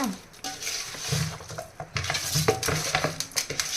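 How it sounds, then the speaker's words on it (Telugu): Spices being stirred and mixed into meat pieces in a pan for biryani, with a scraping, shuffling stir and soft sizzle, close and moderately loud, in irregular bursts with occasional clinks of utensil on the pan. "బాగా ఈ మసాలాలు, ఈ స్పైసెస్ అన్నీ ముక్కలకు పట్టే విధంగా బాగా కలుపుకోవాలి."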